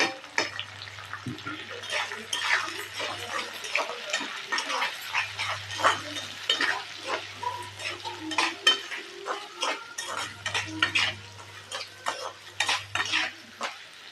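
Peanuts, green chillies, onions and curry leaves fry in a pan, with a soft sizzle under frequent scraping and clinking of a metal spoon stirring against the pan.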